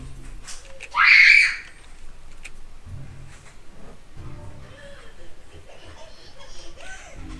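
A short, loud, high-pitched scream effect from the digital card game Hex bursts out briefly near the start, then gives way to quiet background sounds while someone talks.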